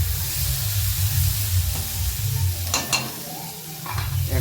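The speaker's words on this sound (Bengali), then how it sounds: "এবার একটু শুকনো শুকনো করে ভাজলেই হয়ে গেল কচড়ার ছেচকি।" Kochra chechki, a dry Bengali fry, sizzles and crackles steadily in a pan as a spatula scrapes and stirs it, with a few louder scraping strokes partway through; no one speaks.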